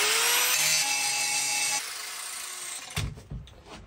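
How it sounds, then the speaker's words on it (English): A power tool cuts the corners off metal car steps at a cottage on the Isle of Skye, a steady loud high whine grinding for about three seconds before stopping, followed by fainter clattering handling noises. "let's cut the corners off this one now"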